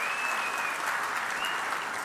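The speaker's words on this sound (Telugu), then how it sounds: "చప్పట్లతోనే స్వాగతం పలకాలి." An audience claps at a public event on industrial expansion in Andhra Pradesh. Steady, dense applause runs throughout and is fairly faint and distant, with no voices over it.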